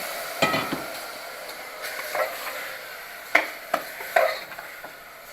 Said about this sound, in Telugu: కొంచెం బియ్యం కొద్దిగా వేగాలి.